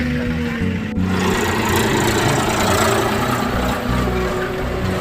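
A tractor engine idles close by beside a muddy road near the Kunjara river, a steady low chugging rumble with a brief click near the start and no speech.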